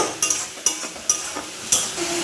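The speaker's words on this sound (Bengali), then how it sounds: "মশলাটা দিয়ে এবার এটাকে ভালো করে কষিয়ে নেব" Spices with tomato, onion, garlic and ginger are stir-fried in a pan, a low steady sizzle broken by several scraping strokes of a spoon against the metal, close and without talk.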